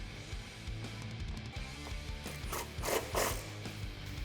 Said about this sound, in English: Grab your 13 socket and tighten them down.